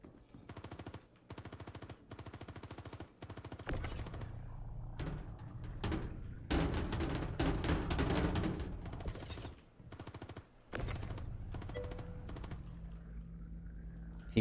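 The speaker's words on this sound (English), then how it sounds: "Chain firing mag after mag after mag." An NPC fires continuous bursts of automatic gunfire in the space game Star Citizen, rapid rattling volleys broken by short pauses, fairly close and without talk.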